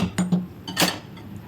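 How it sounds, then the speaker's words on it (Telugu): A metal kadai is set down on a stove, giving a few short close clanks and a brighter ringing knock, brief and isolated with no talk. "ఇప్పుడు స్టవ్ మీద ఒక కడాయి పెట్టుకొని"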